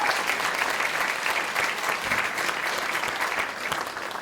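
A congregation applauds a musician during a temple service, a dense, steady round of clapping from many hands that carries evenly from start to finish.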